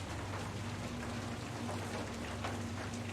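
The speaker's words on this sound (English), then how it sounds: "Hey, at least there's rain." Steady rain falls in a dense, even hiss, joined by a low continuous hum, with no voices over it.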